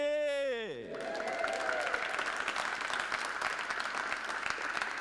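A crowd in a sports hall breaks into sustained, dense applause for a player at a women's world 10-ball pool championship, following a brief fading announcement chime.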